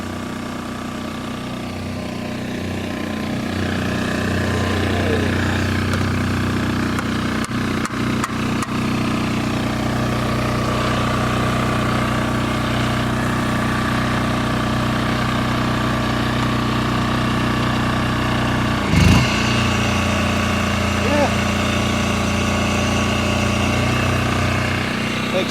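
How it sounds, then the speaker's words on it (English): A 3500-watt Chinese portable generator runs steadily after a cold start in snow, its engine droning in a constant low hum with faint mechanical clicks and one brief knock partway through. "This was all power, 3500 watt portable generator."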